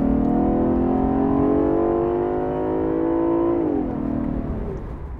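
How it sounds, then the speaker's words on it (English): A V6 car engine of about 320 horsepower revs loud and close, its steady low drone rising slightly in pitch, then dropping sharply near the end before settling back to a lower hum. "I'm driving the V6, about 320 horsepower. Let's have a listen."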